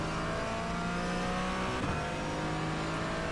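A Porsche 718 GT4 racing around a wet track in the rain, its engine a steady, even drone heard from inside the car with no break in the tone.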